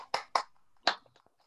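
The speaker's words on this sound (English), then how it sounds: "Let's give those people that were recognized a round of applause," A few scattered hand claps at an online Rotary club meeting: three distinct claps close together, then faint ticks, quiet and sparse.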